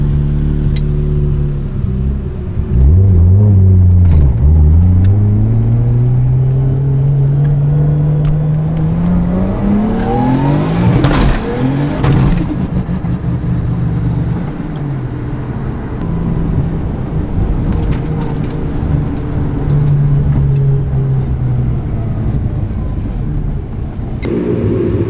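A car pulls away after a tire change, its engine loud and close, revving up through several rising gear sweeps, then settling into a steady drive with occasional surges.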